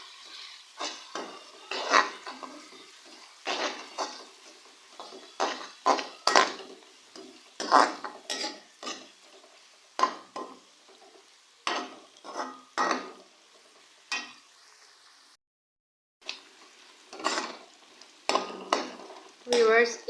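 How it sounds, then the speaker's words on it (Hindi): Ginger garlic paste frying with onions for keema karahi, a wooden or metal spoon stirring and scraping the pan in repeated close strokes over a soft sizzle, with a brief gap near the end. "इसे भी जो है मैं 1 मिनट तक प्याज के साथ फ्राई करूंगी।"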